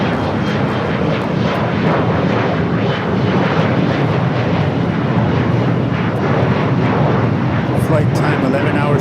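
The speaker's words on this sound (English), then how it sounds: "This flight coming in from Frankfurt" An airliner arriving at Los Angeles LAX on a flight from Frankfurt gives a loud, steady engine roar that holds without a break throughout, with a faint voice beneath it.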